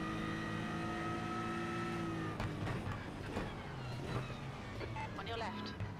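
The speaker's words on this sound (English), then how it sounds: "I hear a car." Race car in the iRacing simulator, a steady engine drone that shifts down as the car passes, followed by engine rumble and revving, with people talking over it.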